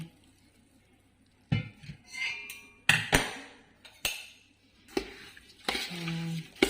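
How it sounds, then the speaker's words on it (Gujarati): Jaggery mango pickle (golkeri) being stirred with oil in a pot, with irregular scraping, clinking and knocking strokes close by, separated by short quiet gaps. "હવે મિક્સ કરી લેવાનું"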